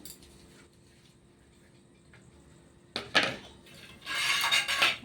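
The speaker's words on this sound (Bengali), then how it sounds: "ফাটিয়ে নিচ্ছি ভালোভাবে এইভাবে ফাটালে ফুলে যাবে" Soaked lentil paste for ash gourd bori is beaten by hand in a bowl: a quiet lull, then loud, rough swishing and slapping bursts of vigorous whipping close by, with no voices.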